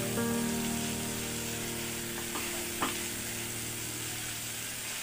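Chopped onions sautéing with a pinch of salt in oil in a pan for Bengali chingri potol, a steady close sizzle with a couple of soft stirring scrapes and a low background hum.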